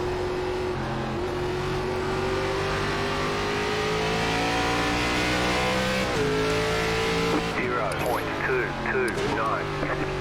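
ARCA stock car engine in the iRacing game at Tsukuba's full circuit, a loud, continuous close drone holding steady revs with slight rises and dips, and someone talking over it near the end.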